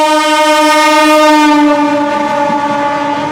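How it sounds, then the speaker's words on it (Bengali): The Saraighat Express sounds a loud, sustained train horn close by, a steady blaring tone holding for several seconds with a slight fade toward the end. "একদম জোরে বাঁশি বাজিয়ে"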